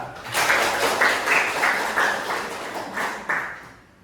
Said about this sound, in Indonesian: Tepuk tangan untuk nada